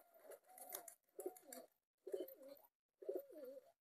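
A pigeon coos close by in four separate throaty, rolling phrases, each about half a second long, with brief pauses between them and no other sound.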